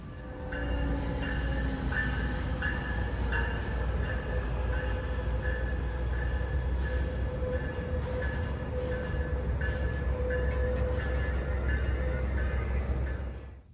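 Train heard from a rail yard where volunteers work on rail cars, a loud steady rumble with rattling wheels on track that holds throughout and fades at the very end, without talk.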